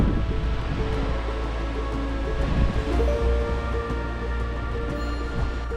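Strong, steady wind rushes through trees near a caravan on a bitterly cold winter day. The roar is continuous and close, with a low rumble and slight surges as gusts build and ease, and no voices.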